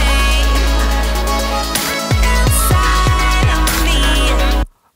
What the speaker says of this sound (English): in this song we have lots of synthesizers and other stuff going on